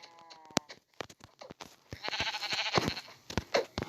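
Sheep bleat repeatedly in a farmyard, several overlapping wavering calls close by, mixed with clattering and knocking noises, without speech.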